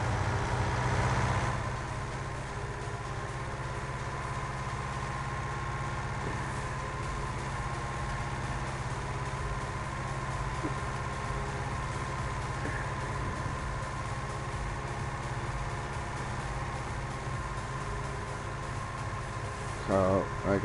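A tractor engine idles in the farming video game Farming Simulator 19, giving a steady, even low drone that runs unbroken for the whole stretch at a constant level.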